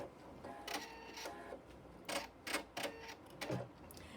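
A sewing machine stitches fabric for a flying geese quilt block in short, quiet clicking bursts, the stitches coming in uneven runs with brief gaps.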